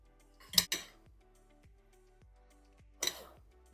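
A spoon mixes a seafood salad in a bowl, giving two brief clinks about two and a half seconds apart over an otherwise quiet background.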